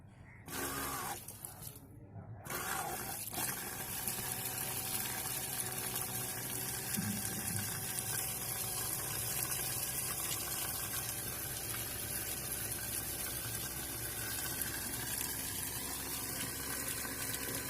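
A homemade water pump built from a DC motor runs steadily, pushing water in a continuous splashing, gurgling stream that is loud and close. Brief bumps and handling noises come at the start, and nobody talks.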